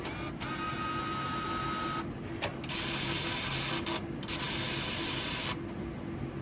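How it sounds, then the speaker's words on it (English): A steady mechanical whirring and rubbing as a bill validator connects with its cash box, nearly continuous, with brief clicks and shifts in tone, close by with no talking. "That's just the bill validator connecting with the cash box."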